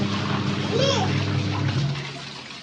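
Water runs steadily from a tap at bath time while a child splashes and sloshes nearby, heard under close, ongoing talk from adults and children.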